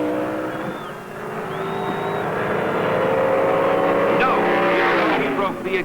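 Drag racing cars from 1971 roar down the strip, a loud sustained engine howl with rising pitch as they accelerate, with a narrator talking over the noise.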